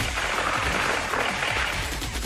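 Rapid, dense gunfire in an anime-style battle, a continuous loud crackle of overlapping shots with no pauses.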